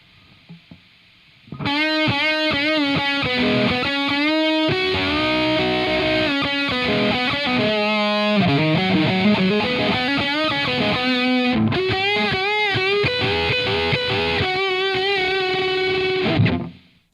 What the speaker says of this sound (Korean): 이게 제가 설명을 드리려고 잠깐 녹음해 놓은 기타 사운드인데요